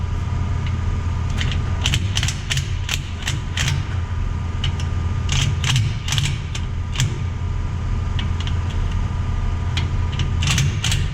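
A ratchet tightens the bolts on an axle spacer during a twin-turbo OBS truck axle build, producing irregular bursts of sharp clicking over a constant low mechanical hum.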